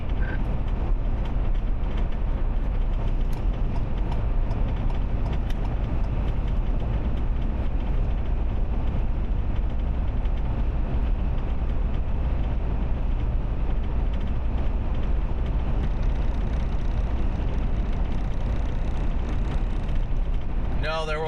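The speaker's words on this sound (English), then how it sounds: "there will be no fixing of the rattling noise." Continuous mechanical rattling and creaking inside a moving vehicle on the road, steady road rumble underneath, with occasional clicks and some speech in the background.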